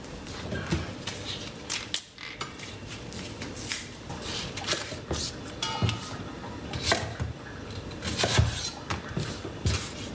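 A knife minces vegetables on a board for a lentil and white asparagus risotto: quick, close, irregular chopping taps that repeat steadily over soft kitchen rustling.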